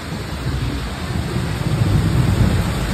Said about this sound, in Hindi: ये देखो बहुत ही खतरनाक वाली बारिश यहाँ पर चल रही